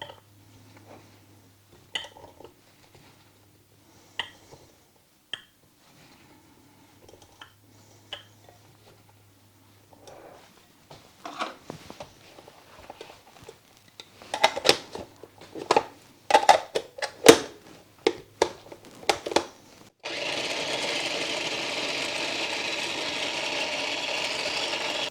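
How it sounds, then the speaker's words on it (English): Cranberries being chopped on a board: sparse knife taps at first, then a quicker burst of close, sharp cuts, and finally a steady loud whir like a food chopper running, with no voices. "I'm going to chop up 2 cups of them"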